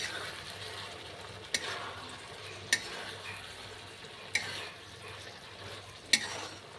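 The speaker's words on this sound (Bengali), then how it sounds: "এবার পনিরগুলো মিশিয়ে দিচ্ছি, হালকা হাতে মেশাবো" Fried paneer is folded gently into thick chilli gravy in a pan under a faint continuous sizzle, while four evenly spaced sharp clinks of a spoon against the pan stand out, close and moderately quiet.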